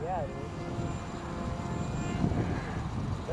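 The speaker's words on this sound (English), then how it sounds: "That's that propeller making that sound?" A small propeller whirs steadily through constant wind noise, close by and fairly loud, with a brief higher buzzing sweep at the start.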